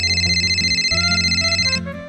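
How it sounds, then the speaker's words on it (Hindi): A mobile phone rings loud and close with a bright, repeating electronic melody that pulses steadily, then stops abruptly near the end. "मेरा फोन कहाँ बज रहा है?"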